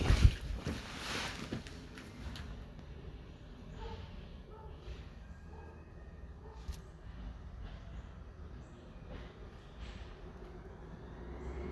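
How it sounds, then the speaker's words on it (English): Trash trucks pass outside before dawn, a low, distant engine rumble that swells briefly at the start and then holds as a faint steady drone. "That's probably the trash trucks."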